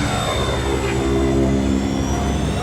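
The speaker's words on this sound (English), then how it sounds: "Engine ignitions," A film sound effect of Star Wars podrace engine ignitions built from real vehicles: a sustained engine roar with a rising high whine, steady and loud throughout, no voices.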